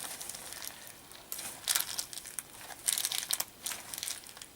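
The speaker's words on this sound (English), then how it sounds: "And empty the bag. You can compress it a little bit" A plastic bag of termite bait is squeezed and compressed, giving bursts of crinkling and crackling plastic that come in irregular bunches close to the listener.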